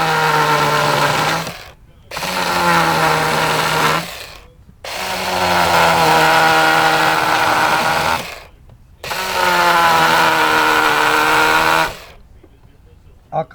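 A chainsaw carves a letter E into a wooden welcome sign in four loud, close bursts of revving, each lasting a few seconds, separated by short quiet gaps.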